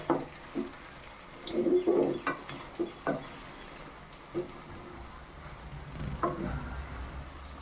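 Soft sizzling of masala frying in a pan for stuffed eggplant curry, with occasional stirring clinks and scrapes, quiet and close.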